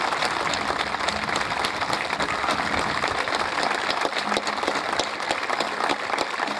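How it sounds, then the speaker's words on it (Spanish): A crowd at a jineteada rodeo festival in Corzuela, Chaco, Argentina, claps steadily in sustained applause, a dense, even patter of many hands that carries on without pause. "Que sigan los aplausos, señores."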